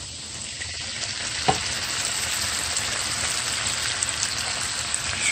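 Steady sizzle of seafood boil garlic butter sauce with lemon juice being stirred in a pan, a continuous close frying hiss with faint scraping and one brief knock, no voices.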